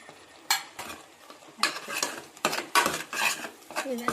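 Chilli and coriander powder masala frying in a pan for a molake kalu sambar, heard as a series of close spoon scrapes and metallic clinks against the pan over a faint sizzle, irregular bursts with gaps between strokes.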